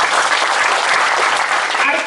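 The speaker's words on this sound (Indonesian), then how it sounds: "Tepuk tangan." A church congregation breaks into dense, steady applause, loud and close throughout the short burst, with a few voices mixed into the clapping.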